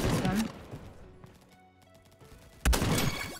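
A gun fires in the video game Bad Business as two dense, loud bursts of shots, one at the start and one near the end, with a quieter, tonal game ambience in between.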